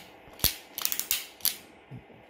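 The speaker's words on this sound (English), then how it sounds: "crimp na natin siya" A crimping tool clamping down on a Cat6 cable connector, a rapid series of sharp ratcheting clicks close up, about six or seven in a quick burst, with no talk.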